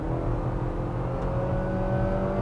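Engine noise from a 2025 Nissan Kicks with a CVT, accelerating in sport mode, a steady drone that holds throughout without voices.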